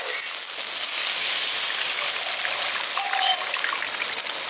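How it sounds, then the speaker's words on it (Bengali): Water poured into a simmering capsicum masala curry makes a continuous hissing trickle and splash, close and fairly loud; no one speaks. "এবার এর মধ্যে আমি পরিমাণ মতো জলটা দিয়ে দিচ্ছি"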